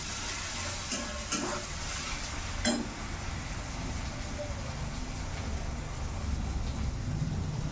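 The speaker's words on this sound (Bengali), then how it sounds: "এই যে মশলাটা দিয়ে দিলাম, মশলাটা দিয়ে হালকা একটু ভেজে নেবো।" Tarka spice mix fries in a pan with a low, steady sizzle that runs throughout, broken by a few scraping stirs of a spoon near the start, with no voices.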